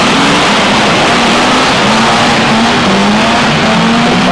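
Loud, continuous roar of stock car racing engines on a track in a 1992 F1 stock car meeting, overlapping revving tones rising and falling as cars power past close by.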